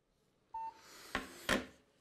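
A telephone being dialed at an office counter to reach Berlin: a short steady tone followed by two sharp, distinct dialing beeps, close and clear over a quiet background.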